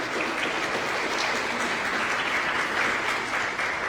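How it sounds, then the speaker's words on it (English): Audience applause fills a town hall meeting on immigration, a dense, steady clapping from a crowd held at even volume for the whole few seconds, with no speech over it. "Can we give him a round of applause?"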